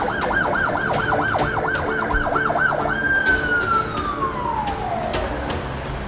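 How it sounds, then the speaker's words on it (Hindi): An ambulance siren wails in a rapid rising-and-falling pattern, then shifts to a long steady tone that slowly drops in pitch as it passes, loud and close over traffic noise. "किसी ने एम्बुलेंस को कॉल की? हाँ, आने वाली है।"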